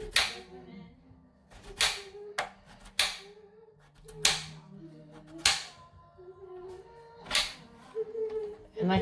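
A knife chops chicken on a cutting board for an Instant Pot pollo guisado, giving sharp, separate thuds every second or so, while a person talks in between the cuts.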